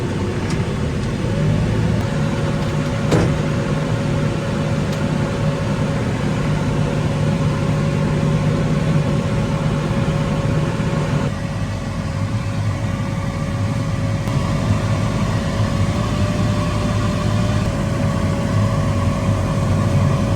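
A snow blower engine runs at about 2,000 RPM in low range, giving a loud, steady, continuous drone with a constant tone throughout, close by and with no voices over it.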